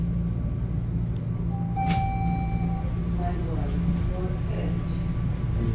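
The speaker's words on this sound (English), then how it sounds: "I love the sound of the subway" A Toronto subway train rides along with a steady low rumble and a brief rising tonal whine near the middle, set against the hum of the carriage.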